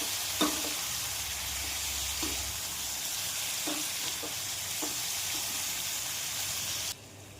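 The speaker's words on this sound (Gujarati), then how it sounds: "નમક હળદર ચટણી ધાણા જીરું નાખી અને આપણે હલાવી દઈએ" Stuffed okra cooks in a pan with tomato puree, salt, turmeric, chili powder and coriander-cumin spices, giving a steady close sizzle broken by several soft spatula scrapes and taps as it is stirred.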